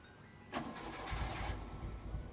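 A car engine cranks briefly and catches, then settles into a low, rumbling idle that carries on steadily, fairly quiet and with no one speaking.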